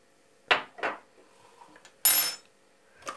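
A utensil clinks against a bowl while madeleine batter flavored with orange and vanilla extract is mixed, giving a few sharp taps and scrapes with short pauses between them.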